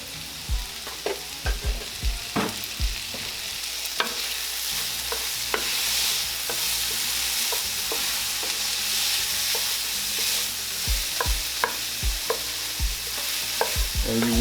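Minced garlic sizzles in a hot pan with cooked ground turkey for teriyaki, a loud, continuous frying hiss punctuated by frequent clacks and scrapes of a utensil stirring, close up with no speech.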